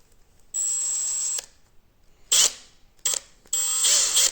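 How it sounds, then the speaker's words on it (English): A powered driver whirs in four separate bursts, one long and three shorter, close and sharp, driving 10mm M3 screws into a 3D printed repeating crossbow, with near silence between bursts. "Just screw it a bit in, that you can see it a bit from here."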